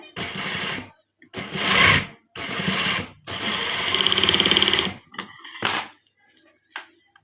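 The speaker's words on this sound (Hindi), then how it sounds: "चलिए अब एक बार फिर इसकी स्टिचिंग करते हैं।" A sewing machine stitches a neck design on a garment in several loud bursts of rapid whirring, separated by short pauses, with a few brief clicks near the end.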